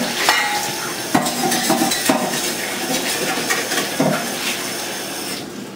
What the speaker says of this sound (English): Just scrape it off.